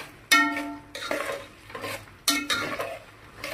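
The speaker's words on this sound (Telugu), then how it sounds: "నెమ్మదిగా సిమ్లో పెట్టుకుని వేగించుకోండి పోపు అంతా కూడా." Cashews and a tempering of spices fry slowly on a low flame in a pan, giving soft sizzling with repeated scraping and stirring strokes of a metal spoon against the pan.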